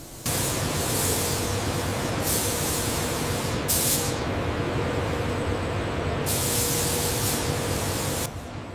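Steady hiss of spray paint being applied to a HIMARS rocket launcher's undercarriage in a factory, continuous and close with brief brighter bursts throughout.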